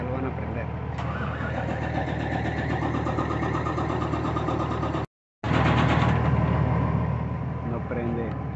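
A truck engine in a repair shop cranks steadily without catching, with a rapid rhythmic churning that stops briefly and then resumes, while people talk nearby.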